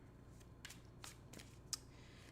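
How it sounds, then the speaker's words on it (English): Tarot cards shuffled by hand in quiet room, a few faint, brief riffling bursts spaced apart, the last one slightly sharper. "I hope the cards shuffling and everything is not too loud in the microphone"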